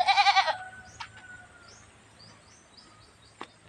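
A goat on a rural farm bleats in a quick burst of loud, wavering cries at the start, then falls quiet, with faint birdsong and a distant knock in the background.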